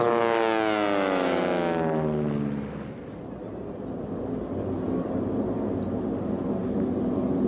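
A T-6 race airplane's propeller engine roars past at an air race, its pitch dropping sharply as it flies by, then fading into a steady distant drone.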